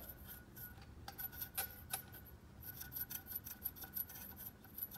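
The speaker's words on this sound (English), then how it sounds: "the compressor wheel is touching the housing" IHI IS38 turbocharger compressor wheel rubbing against its housing as the assembly is turned, a faint close scraping rasp made of repeated short strokes, with no talking.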